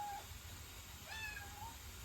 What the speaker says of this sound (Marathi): मांजर आणले तुम्ही?